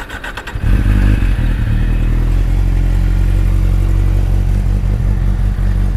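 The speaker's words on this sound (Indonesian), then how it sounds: "mari kita dengar tengok Z8 Yoshimura exhaust pula" A 2013 Kawasaki Z800 inline-four motorcycle idles loudly through a Yoshimura exhaust, starting up after a brief rattle and settling into a steady, deep, close burble with no talk.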